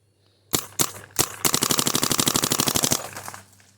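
An Empire Vanquish paintball marker fires a few separate loud pops, then breaks into a rapid, even burst as ramping kicks in, each shot sharp and close before the string trails off.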